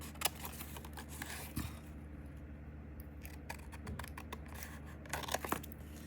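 Scissors snipping through magazine pages during a paper craft, with a few quiet, brief cuts and light paper rustling in a near, quiet room.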